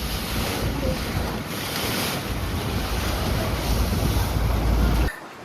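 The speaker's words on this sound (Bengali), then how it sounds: "কি অবস্থা দেখো, এত ঢেউ দিচ্ছেন, বোট দুলছি।" Waves churn and slap around a boat rocking in the Sundarbans, a loud, steady rush of surf and gusting wind buffeting close by, cut off abruptly near the end.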